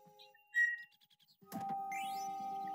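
A pet bird calls with a few short whistled notes and chirps, fairly close in a quiet room, followed by a steady electronic tone and background hum from a video game.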